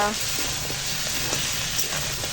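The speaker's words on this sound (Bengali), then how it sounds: "এখন কাঁকড়া কষানো হচ্ছে" Crab sautéing in a pan for kosha, a steady close sizzle and fry with faint stirring scrapes running throughout.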